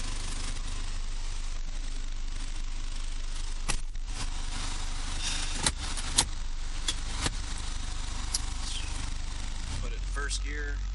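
A heavy equipment engine runs steadily in first gear, hauling a 12-ton heavy super-disk up a mountain ridge-top, a constant loud low drone with occasional clanks and rattles and talk over it.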